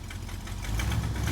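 A rough, low engine of an old 1978 Ford F250 pickup with an exhaust leak idles steadily with a knocking rumble, growing slightly louder, no voices.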